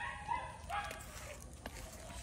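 Three young puppies give faint, high yips and whimpers against steady background noise, with a brief muffled voice.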